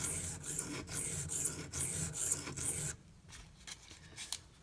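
A Microtech UTX-70 knife blade scrapes in rhythmic back-and-forth strokes across Venev pocket diamond stones, a close, quiet gritty rasp of about eight passes, then softer, sparser strokes.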